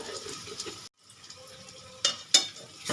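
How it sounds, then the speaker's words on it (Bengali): Pointed gourd dorma curry being stirred in a pan, a quiet sizzle broken by a brief pause, then two sharp spoon scrapes against the pan and the sizzle returning. "এবার একটু নেড়ে চেড়ে নেব বন্ধুরা"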